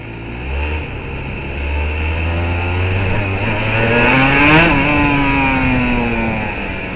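Aprilia RS250 two-stroke motorcycle engine revving hard on a test ride, a loud close buzzing drone climbing in pitch, peaking briefly near the middle and then easing off steadily, with wind rush throughout.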